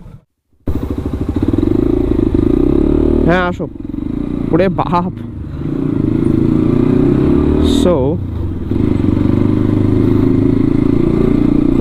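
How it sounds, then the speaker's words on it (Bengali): A Hero Xtreme 125R ABS motorcycle is ridden in Bangladesh, its engine droning steadily and close for nearly the whole stretch while the rider speaks a few brief words over it. "গাড়িটা চালাইতে আমার মোটামুটি ভালোই লাগতেছে"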